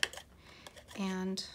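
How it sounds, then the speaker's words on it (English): A corner rounder punch bites through a paper corner with a sharp, brief click near the start, followed by fainter handling clicks, with a short spoken word afterward. "So we're just going to put it inside the corner rounder."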